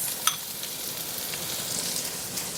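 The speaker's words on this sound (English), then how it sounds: "now I am to heat 1 tablespoon of oil in my wok. I will add my shallots" Shallots frying in a tablespoon of oil in a wok, a steady close hiss and sizzle with a faint utensil tap near the start.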